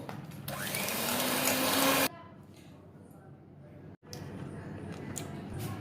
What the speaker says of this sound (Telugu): అట్లీస్ట్ ఒక 2 to 3 మినిట్స్ అయితే బీట్ చేయండి.